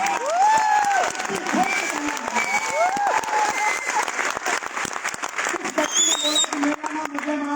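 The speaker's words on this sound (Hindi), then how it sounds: "एक बार जोरदार ताली बजाओ।" An audience applauds loudly while a few voices call out and cheer over the clapping, with scattered shouts rising above the steady patter.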